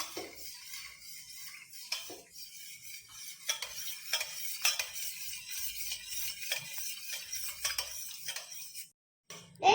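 A spoon stirs strawberry jelly mixture in a bowl, giving soft, close scraping swirls with occasional light clinks, fairly quiet throughout, before a brief silence near the end.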